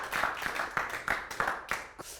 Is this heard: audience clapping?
yes